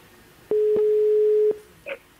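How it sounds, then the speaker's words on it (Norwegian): A phone call is placed from a talk-show telephone, with one steady tone lasting about a second, then a short faint blip after it, close and clear with no talk over it. "Yes, da ringer jeg Helge Hammelov Berg."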